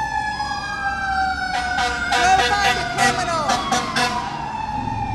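Fire engine sirens wail loudly past an outdoor news conference, their rising and falling tones sweeping by as a voice speaks over them.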